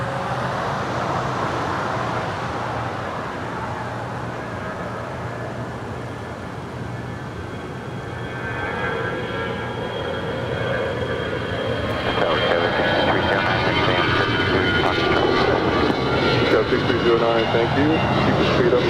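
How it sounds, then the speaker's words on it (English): An Alaska Airlines Airbus A320 departing LAX roars as a sustained broadband jet rumble that swells louder near the end, with traffic hum and a voice talking over it. "It's an A320."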